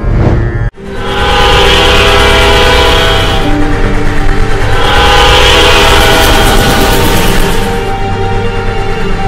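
Indian Railways train passing close by, a loud sustained horn blaring in two long blasts over heavy rumbling wheels and rolling cars, beginning after a brief sharp cut.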